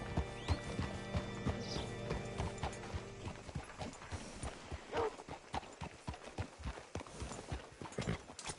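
Horse hooves clip-clop in a steady, close rhythm in the Western video game Red Dead Redemption 2, alongside mechanical creaks of tack and a brief whinny, with no talk.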